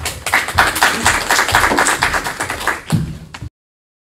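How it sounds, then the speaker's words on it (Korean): An audience at a seniors' policy competition at a community welfare centre gives a short burst of lively clapping that fades and stops abruptly after about three and a half seconds. "큰 박수 부탁드리겠습니다"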